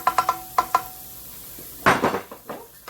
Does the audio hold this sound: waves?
no